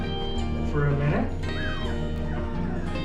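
Three-week-old Vizsla puppies whimper and yip close by, a few thin high cries rising and bending over a steady low hum, with a person talking alongside.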